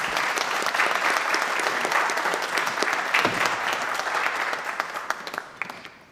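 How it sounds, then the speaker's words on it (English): Sustained, dense applause from a church congregation for the Sunday school children, loud and steady throughout before tapering off at the very end. "Let's give them a big round of applause"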